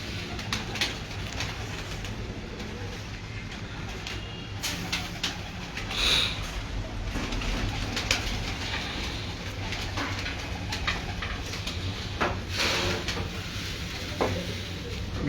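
Pigeons coo softly in a rooftop loft amid steady background hiss and scattered rustling, the low calls blending into the ambient noise with no voices present.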